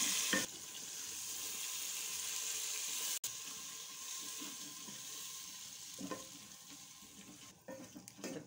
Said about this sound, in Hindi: अब थोड़ा सा पानी डालना है।